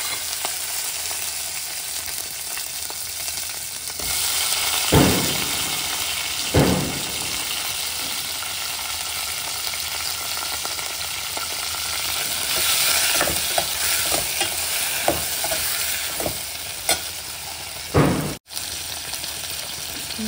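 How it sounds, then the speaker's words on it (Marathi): Whole spices and a couple of cloves for shahi paneer sizzle steadily in hot oil, with a spoon scraping and stirring through the pan every few seconds, close and continuous with no talking. "आता आपण सगळे मसाले एकत्र परतून घेऊया"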